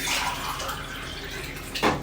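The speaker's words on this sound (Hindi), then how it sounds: "2 गिलास इसमें पानी डलेगा।" Water pours into a vessel of rice being readied for biryani, a continuous splashing rush with a brief louder gush near the end, close and without speech.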